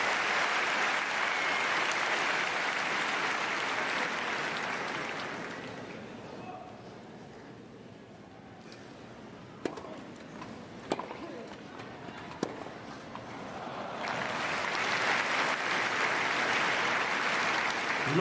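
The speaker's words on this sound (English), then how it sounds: "much deserved round of applause there for the sportsmanship by Cantaneo" Crowd at a wheelchair tennis match applauding, a sustained wash of clapping that fades to near quiet with a few isolated claps, then swells again into full applause, with a commentator talking over it.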